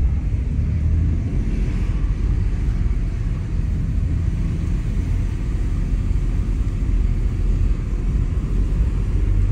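A white Volkswagen Golf 3 with a VR6 engine revving up, a dense, loud, continuous engine roar that holds steady throughout without any voices.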